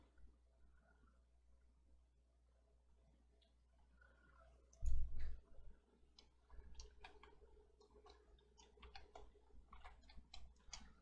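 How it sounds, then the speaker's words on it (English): Quiet computer keyboard typing at an office desk, a run of soft, irregular key clicks that grows busier toward the end, with one louder knock midway. "I'm wondering if my typing is going to pick up"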